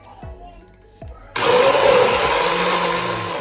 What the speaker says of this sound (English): I'll get the hand blender and I'll blend it and make it very small.